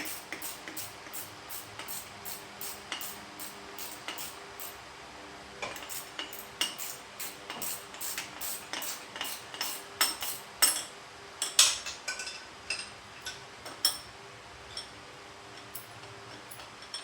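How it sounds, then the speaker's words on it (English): Bolts are removed from a Kawasaki HD3 motorcycle chassis with a ratcheting tool. A rapid run of close metallic clicks grows busier, with clinks of loose parts partway through. "So I'll just take these bolts out."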